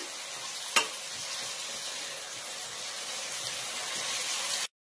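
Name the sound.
stirring greens in a pot with a wooden spatula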